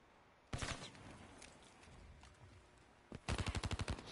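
Automatic gunfire in Call of Duty Black Ops 3 comes as a short burst and then a longer rapid string of shots, fairly distant and sharp against a quiet background.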